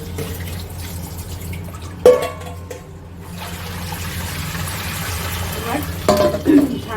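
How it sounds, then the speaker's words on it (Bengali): Room-temperature tap water runs steadily while fish is rinsed under it in a home kitchen, a continuous soft wash with a few sharper splashes and clatters, with a voice talking over it. "এবার ঠান্ডা জলের মধ্যে রানিং কোল্ড ওয়াটার, কোল্ড না নর্মাল টেম্পারেচারের ওয়াটারের মধ্যে সেটাকে জাস্ট একটু ধুয়ে নিতে হবে"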